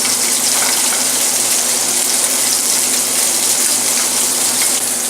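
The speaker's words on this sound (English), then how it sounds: "Then I'm going to add a little water to it." Water poured into a hot pan of searing fish sends up a loud, steady hiss and rushing sizzle that holds evenly throughout, with no talk.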